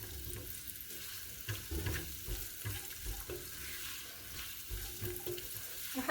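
Chopped onion fries in oil in a pot over medium-high heat for Filipino pork dinuguan, giving a steady, fairly quiet hiss and crackle with no voices.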